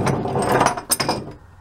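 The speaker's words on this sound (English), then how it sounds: "Step one is to loosen the packing gland." Wrench loosening the packing gland nut on a boat's stuffing box, a few close metallic ratcheting clicks and scrapes, short and sharp, without any talking.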